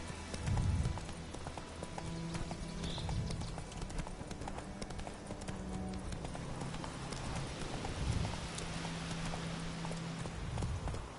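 Horse hooves clip-clop at a steady trotting rhythm in Witcher 3, a continuous close patter of hoofbeats layered over ambient game sound with no talking.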